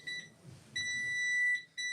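A security scanner beeps in sharp, high electronic tones, one short beep followed by a long sustained beep and another starting after a brief gap, with faint room noise between.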